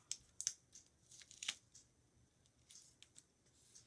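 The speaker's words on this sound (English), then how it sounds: "Cut those edges off there so that they don't show through." Scissors snip the edges off a handmade paper sympathy card in a series of short, crisp, fairly quiet cuts, some in quick pairs, with papery rustling between them.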